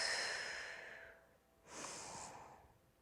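During a Pilates exercise, a close, audible breath comes as one long airy exhale fading away, followed after a short pause by a second hissing breath.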